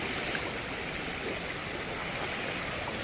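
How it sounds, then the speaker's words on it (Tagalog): Steady rain falls on a gloomy morning along the coast, a constant broadband hiss of moderate loudness with no breaks or separate drops standing out, and no voices. "Ang ulap paikot walang tigil ang ulan"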